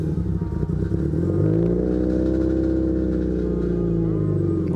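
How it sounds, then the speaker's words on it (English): A 2015-2020 Subaru idles and revs close by, its exhaust heat shield rattling against the exhaust, a sustained droning engine note that rises and holds steady. "My heat shield is rattling."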